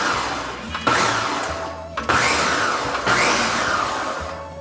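A countertop blender pulses a pot of Cincinnati chili, roughly four short bursts of loud, rough whirring that run close together without any talking.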